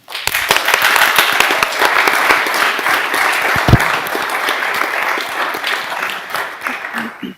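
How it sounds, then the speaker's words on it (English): Audience applause at a school district board meeting honoring students, a steady wash of clapping from a room full of people with a few sharper close claps and faint voices under it. "Can we get a round of applause?"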